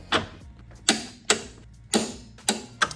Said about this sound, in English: The bolts get torqued to 90 Newton meters, as you can see here.